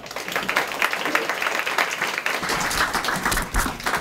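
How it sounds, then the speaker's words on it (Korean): A lecture audience at a Suwon cram school claps steadily as the academy director is introduced, a dense, continuous wash of applause filling the hall for about four seconds. "큰 박수 부탁드립니다"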